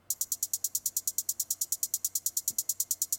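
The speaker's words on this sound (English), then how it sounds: "Just nothing, just a one-step hi-hat pattern." A crisp hi-hat ticks in a steady, fast, even pattern at 139 BPM in FL Studio, roughly seven hits a second, alone with nothing else playing.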